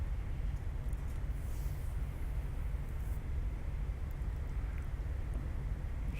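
Small airplane engine running at a low 1600 RPM on the ground, a steady continuous low drone heard close and constant throughout.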